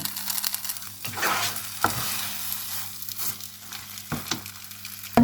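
Spring roll filling of pork, shrimp and mushrooms being stir-fried in a dry pan without oil: soft scraping and stirring with a low sizzle, plus a few sharper clanks of the utensil against the pan.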